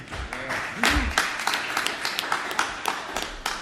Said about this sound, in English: I think that was the mayor back there who started that applause